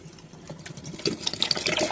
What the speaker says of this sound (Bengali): দুধ আর জল মিশিয়ে দিচ্ছি